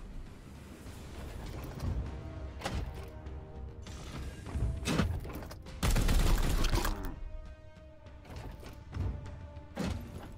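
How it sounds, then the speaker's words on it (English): Gunfire in the video game Warhammer 40000 Chaos Gate Duty Eternal, with heavy weapon shots and thuds spaced irregularly over a humming backdrop and a louder sustained blast of fire in the middle. "Opening fire."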